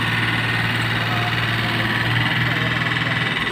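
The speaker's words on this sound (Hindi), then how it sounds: "किसान भाइयों, ये जो ट्रैक्टर आप देख रहे हैं, ये सोनालिका DI-60 है।" A Sonalika DI-60 tractor engine idles steadily nearby, a continuous low rumbling drone with even vibration throughout.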